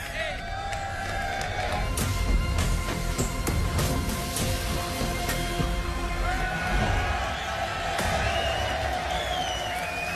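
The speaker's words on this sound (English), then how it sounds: "Crowd excited, getting the first look at the car" Excited crowd at the Ferrari 2023 Formula One car reveal, a dense, steady roar of cheering, whoops and clapping at close range, with voices shouting throughout for about ten seconds.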